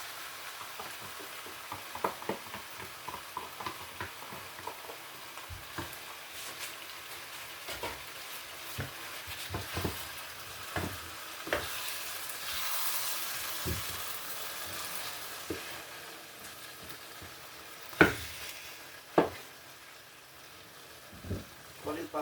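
Canned mackerel frying in a pan, a quiet steady sizzle broken by scattered utensil scrapes and knocks, with a couple of louder clanks near the end.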